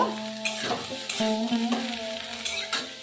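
Mixed vegetables such as pointed gourd frying in a pan for a jackfruit-seed chorchori, a close steady sizzle broken by repeated scraping stirs of the spatula.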